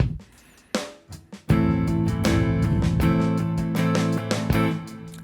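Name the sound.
funk rhythm guitar strumming pattern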